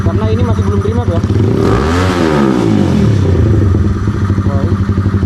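A fuel-injected Honda CB motorcycle engine, still on its stock, unremapped tune, idles loudly up close, then revs up once and drops back, settling into a steady, throbbing idle.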